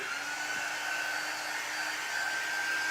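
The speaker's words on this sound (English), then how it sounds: "let me dry it. I'm using my Magnolia heat gun." A Magnolia heat gun blows steadily to dry chalk paste on a paper craft, a loud, even, close whooshing hum holding for the whole stretch.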